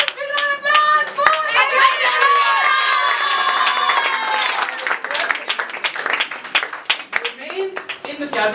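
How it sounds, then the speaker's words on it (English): Audience at a felicitation celebration applauds steadily, with loud cheering and excited voices mixed through the clapping the whole way. "big round of applause for"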